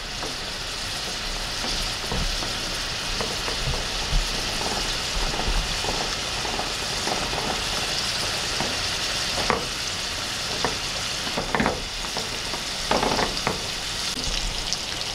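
Shrimp and garlic frying in a pan, a dense close sizzle running steadily throughout, with scattered crackles and utensil clicks from stirring.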